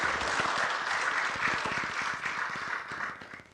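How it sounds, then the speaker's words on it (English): Audience clapping at a university innovation week and industry summit, a steady patter of many hands applauding at moderate volume that fades slightly toward the end. "Professor Wanja, let's clap for Professor Wanja as she comes on the stage."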